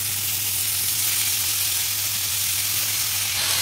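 Washed spinach hits a pan of fried onions with a loud, steady sizzle, a dense hiss that holds evenly from start to finish with no talk over it.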